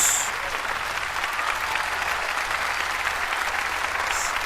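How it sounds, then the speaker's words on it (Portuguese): A church congregation at a Bible study gathering in Jacksonville, Florida, applauding God, with loud, even clapping that holds steady throughout. "Um aplauso para Deus."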